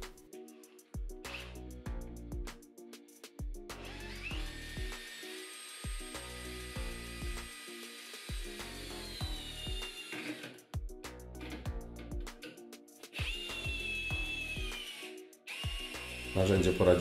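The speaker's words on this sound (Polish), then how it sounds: "Narzędzie poradziło sobie także z wkrętem ciesielskim 8x260, choć raz wyślizgnął mi się bit z łba wkrętu" A brushless Bosch GSR 12V-35 FC cordless drill driver drives a long 8x260 carpentry screw into wood in repeated whirring bursts with pauses between them, its motor pitch dropping under load, close and clear, with talking over it.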